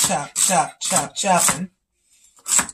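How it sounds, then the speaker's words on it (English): Crisp, rapid knife chops on a cutting board as vegetables are chopped for dressing, in short bursts, four quick runs, a pause, then one more, close up. "I'm going to go ahead and chop this up"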